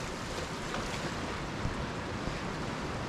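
Steady wash of sea surf at a small beach along the South West Coast Path between Par and Lansallos at high tide, a continuous roar mixed with breezy wind rumble, no voices.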